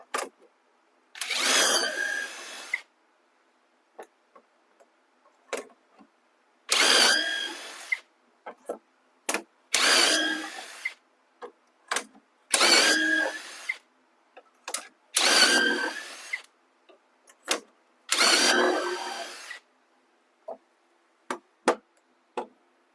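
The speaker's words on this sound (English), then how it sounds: "And then start drilling, right?" Power drill boring into a wooden storage cabinet during a dining room hutch build, heard as six or seven separate bursts of a couple of seconds each, with small ticks and clicks in the gaps between them.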